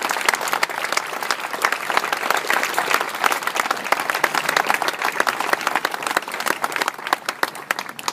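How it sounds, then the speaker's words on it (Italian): Sustained audience applause for the young musicians of the Salerno orchestra at an outdoor dawn concert in Positano, dense steady clapping from a large crowd continuing throughout, close and loud. "ancora un applauso per questi giovani artisti"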